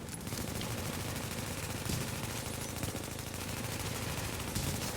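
Sustained automatic gunfire from a gun turret in the video game The Division, a dense, continuous rattle of rapid shots running steadily through the whole stretch at close, loud level.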